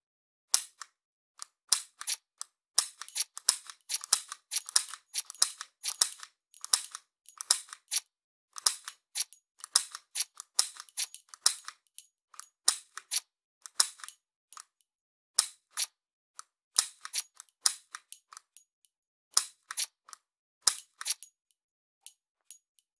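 Laser training pistol dry-firing at a target, giving sharp clicking snaps repeated irregularly, sometimes in quick bursts, with short gaps between shots, close and fairly loud with no voices.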